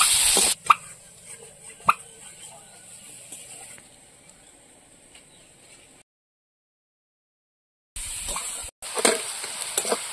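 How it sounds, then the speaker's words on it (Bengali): Chopped onion with torn green chili and garlic fries in a pan, giving a faint, steady sizzle with occasional sharp pops, a stretch of near silence, then louder crackling. "পেঁয়াজটা একটু ভালো করে ভেজে নেবো।"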